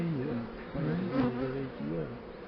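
Dense buzzing of honeybees from a wild swarm crowding a hive frame close by, a steady droning hum that swells and wavers.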